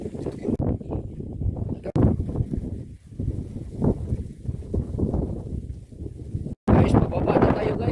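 Strong wind buffeting the microphone on a mountain hiking trail above a long stone stairway, heavy low rumbling gusts that swell and drop throughout with brief cut-outs, no talk.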